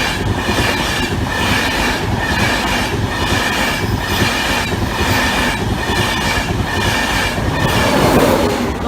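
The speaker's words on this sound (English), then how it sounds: "the Glasgow train that we're waiting for" A train, the Glasgow service, passes over the Barnby Road level crossing, loud and close, with a continuous roar, rhythmic clickety-clack of wheels over rail joints and some wheel squeal, no voices.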